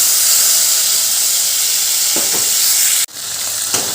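Tomato, ginger and green chili paste fries in hot oil for a pointed gourd curry, giving a loud, steady sizzle with a few soft stirring scrapes. It cuts out abruptly near the end, then returns slightly quieter.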